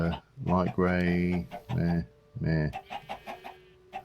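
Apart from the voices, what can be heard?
chickens clucking in video game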